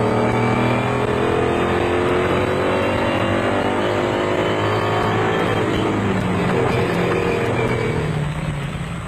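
Ford Ranger off-road race truck at the 2002 Carnival City Casino 400 in South Africa, its engine a loud, constant close drone from inside the cockpit as it drives a dusty route, pitch shifting slightly with the throttle.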